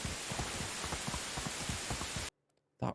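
Steady rain in the video game Medieval Dynasty, a dense patter of drops that runs for over two seconds, then cuts off abruptly, followed by near silence and a short burst of sound.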